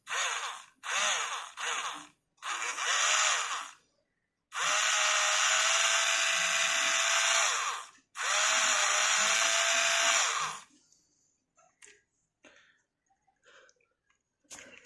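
A small handheld electric eraser motor whirs in repeated bursts, some short and two longer runs of several seconds, each with a high buzzing whine, then stops, leaving faint handling noises.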